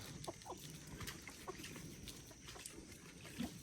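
Chickens cluck softly in short scattered calls against a quiet outdoor background, with one louder cluck near the end.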